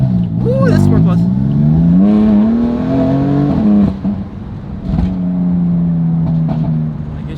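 A BMW F80 M3 engine revs in Sport Plus mode with strong rising and falling harmonic tones, loud and close, mixed with talking voices throughout.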